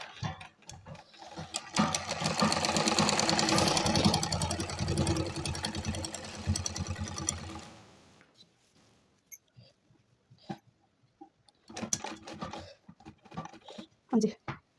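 A sewing machine stitches a salwar waistband in a dense, rapid, mechanical run lasting several seconds before stopping. A person then talks over faint handling noises.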